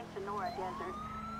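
A police car siren in GTA V with the LSPDFR mod gives a few quick rising and falling wails that break off, then a steady tone over a low engine hum, moderately faint.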